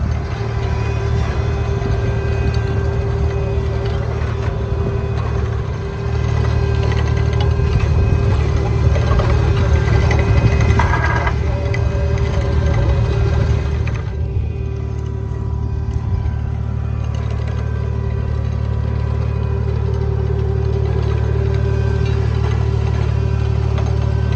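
A vineyard tractor engine drones steadily at close range, a low continuous rumble with a slight knock, holding for the whole stretch without talk.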